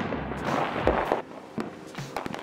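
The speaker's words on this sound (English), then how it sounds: "you could still see a bunch of fireworks being shot everywhere in Vegas" Fourth of July fireworks go off across Las Vegas at a distance, a scattered series of muffled pops and crackling bursts over a rushing background hiss.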